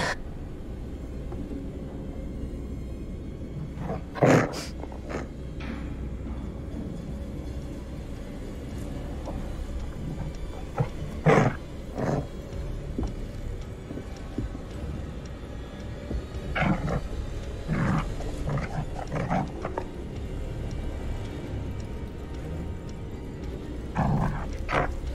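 A dog in The Dark Pictures: The Devil in Me growls low and steadily, with several louder snarling bursts spaced across a tense, quiet ambience, no talking.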